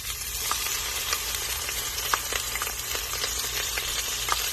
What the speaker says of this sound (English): Put in our olive oil into the already warmed pan, and then add our garlic to the pan.